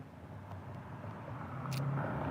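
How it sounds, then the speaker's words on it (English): A white truck's engine rumbles past on a street, a low steady drone that grows slightly louder toward the end, faint and distant with light traffic ambience around it. "That was the engine sound that I was hearing syncing with the cop. It was a white truck."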